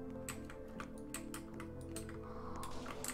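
Rapid clicking of a computer keyboard with a glowing caps lock light, keystrokes tapping in quick irregular bursts close by over steady background game music.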